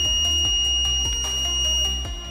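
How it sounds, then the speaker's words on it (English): Fire alarm buzzer going off in a patient care setting, a steady high electronic tone held throughout with repeated low thumping pulses beneath it. "Once high temperature is detected, assuming there's fire, a buzzer will go off."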